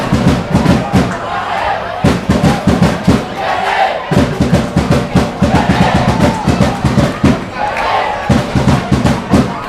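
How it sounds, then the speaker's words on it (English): Local fans at a senior World Cup semi-final between France and USA chant and cheer loudly in a rhythmic, pulsing roar that continues steadily, with an announcer's voice mixed in. "Got the local fans cheering for USA."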